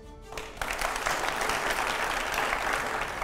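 A live interview audience bursts into applause, and a dense, steady wash of many hands clapping builds after a brief pause, then holds loud and close.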